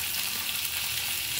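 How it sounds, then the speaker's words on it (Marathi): River fish fry in oil in a pan, producing a steady, even sizzle that stays close and constant throughout. "इकडं आपण फिश फ्राय करून घेतोय"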